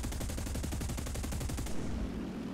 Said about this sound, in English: If I just fire the whole thing, hopefully I don't run out of ammo for this